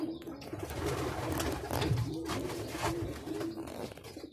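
Domestic pigeons coo in a backyard loft housing Budapest tumblers and young homing pigeons, steady close cooing with fluttering and shuffling filling the short stretch.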